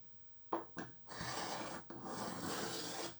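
Zigzag-blade cutter slicing a rounded cut: two short sharp snips followed by a longer steady rasping cut, then another sustained stretch, close and alone without talk.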